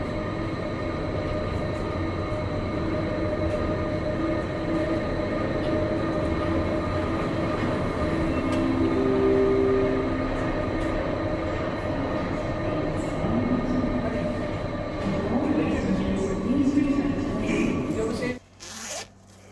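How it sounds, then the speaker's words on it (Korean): A Jungfrau mountain railway train in Switzerland rumbles steadily along the tracks from inside a carriage, with faint wheel squeals and murmuring voices, before the noise drops off abruptly. "융프라우 열차에 올라타는 그런 장면입니다."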